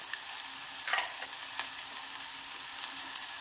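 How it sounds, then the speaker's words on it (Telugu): Onion, cabbage, cauliflower, green chillies, sweet corn, carrot and tomato fry in a pan with a steady, close sizzle, broken by a few light stirring scrapes. "క్యారెట్, టమాటో వీటన్నిటిని ఫ్రై చేసుకోవాలి."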